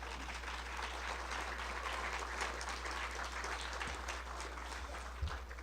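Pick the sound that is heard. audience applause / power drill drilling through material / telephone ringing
audience applause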